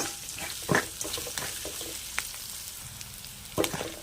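Ginger chutney ingredients with asafoetida being sautéed in a pan, a quiet sizzle under a few sharp spoon scrapes and clinks against the pan.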